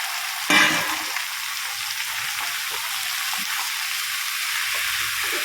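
White gourd and soaked mung dal hit a hot pan with a sudden loud sizzle, then settle into a steady, close frying hiss with soft stirring scrapes throughout.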